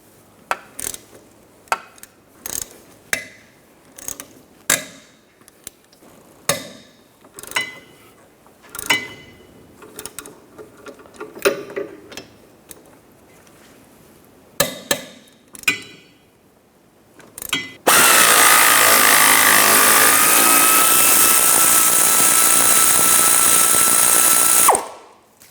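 A 16mm socket on a ratchet and power tool loosening the hub bolts on a 2007-2013 Mini Cooper, with a string of sharp clicking ratchet bursts followed by a long, loud continuous drilling whir near the end.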